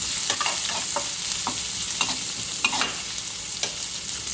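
Onions fry in a pan for a chicken gravy, giving a dense, continuous sizzle with several soft stirring scrapes and taps, close and fairly loud, with no voices over it.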